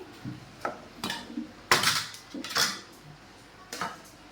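Rice is served onto a plate at home for a simple Bengali lunch. A handful of sharp, close clinks and scrapes of a serving spoon against dishes ring out, spaced irregularly, with no talking.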